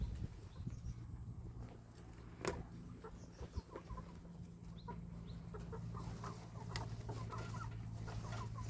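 Several chickens cluck softly and intermittently, with an occasional sharper squawk, over a low, steady background hum.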